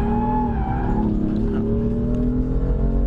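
A BMW M4 engine roars steadily for a few seconds, its tires squealing as it slides through a drift, with no voices.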